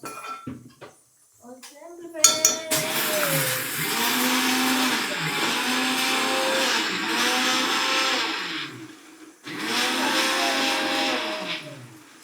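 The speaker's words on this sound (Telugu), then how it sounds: "మిక్సీ అయితే పట్టుకుంటున్నాను ఓకే" A kitchen mixer grinder blends mint chutney, with a couple of short clicks and clatters followed by two loud, sustained whirring runs with a brief pause between them, close by, with a voice heard alongside.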